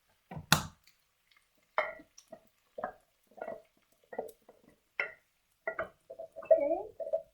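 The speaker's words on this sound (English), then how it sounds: "So you want to pour the chickpeas in." Chickpeas tip into a curry pan with coconut milk in a few separate bursts of soft wet plops and squelches, close and quiet with silent gaps between them.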